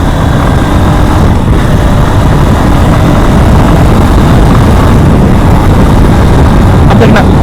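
A motorcycle engine rises steadily in a continuous, loud, close roar as the bike picks up speed, with wind rumble mixed in throughout.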